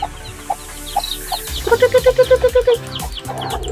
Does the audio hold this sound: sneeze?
no